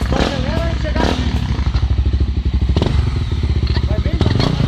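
A trail motorcycle at an off-road club ride revs and accelerates close by in short, choppy bursts, engine pulsing unevenly with some clatter and thumps, while people talk and shout over it.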